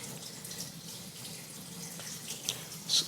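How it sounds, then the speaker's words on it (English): Cold tap water runs from a faucet to rinse carbon dust from a PUR water filter, a steady soft hiss of flow with a few splashes near the end. "I'm going to go ahead and rinse this for 15 seconds to remove some of the carbon dust"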